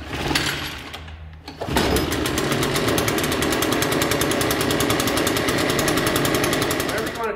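An Echo PB580 backpack leaf blower being started with its recoil pull cord: a brief pull and sputter, a short pause, then the two-stroke engine catches and runs steadily and loudly close by.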